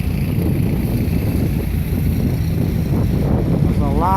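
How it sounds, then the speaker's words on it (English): Strong wind roars steadily during a heavy snowstorm in downtown Chicago, a dense continuous rush buffeting the microphone throughout, with a brief faint tonal warble near the end. "It's snowing very, very, very hard. You can see how windy it is."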